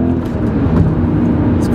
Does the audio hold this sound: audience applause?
no